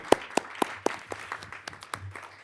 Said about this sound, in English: So if we can give him a big round of applause for his new role at Book Cliff Middle School